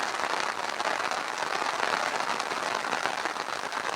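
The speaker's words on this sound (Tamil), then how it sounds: "மழை இப்போ வந்து பெய்யுது" Steady rain pours over open farm fields where the harvest has been halted, a dense, even hiss that holds without a break from start to finish with no voices over it.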